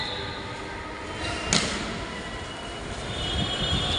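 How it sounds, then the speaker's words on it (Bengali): A metro rail train runs through an elevated station in Agargaon, Dhaka, a faint, steady rumble with one sharp clack midway and the rolling noise swelling slightly toward the end. "দ্বিতীয় তলা দিয়ে হচ্ছে মেট্রো রেল চলে"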